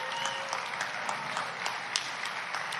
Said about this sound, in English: these are all people that are clapping that love their children